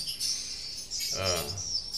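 Recorded bird calls played from a tweeter speaker in a small swiftlet house: electronic-sounding chirps repeat rapidly, bright and shrill, with a low buzzy undertone, as if played through a small speaker.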